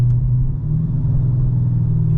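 A Dodge Charger R/T with a 5.7L V8 rumbles steadily up close as it downshifts via the paddle shifter, a deep continuous engine drone with no talk.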